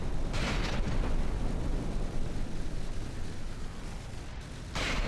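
Battleship turrets fire in From the Depths. Heavy booms land close and loud, one burst near the start and another near the end, with a rumbling roar between them and no voices.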